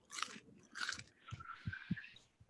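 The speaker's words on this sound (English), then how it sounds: "Crunch away, Han" Someone crunching food during an engineering pride quiz, several soft bites and chews at close range, with a faint tone drifting in the background.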